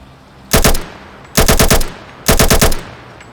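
Three short bursts of rapid automatic gunfire from a weapon in Fallout 4 VR, each roughly a third of a second long and loud and close, separated by brief pauses with low background hum.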